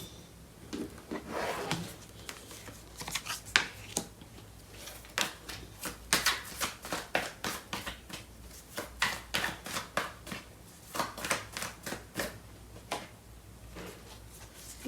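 Tarot cards are shuffled by hand in a long run of soft riffles, flicks and taps, quiet and close, with no voices.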